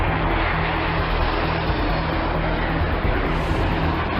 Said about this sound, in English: We have 2 Russian Su-24s currently conducting multiple passes at CPAs of 75 feet.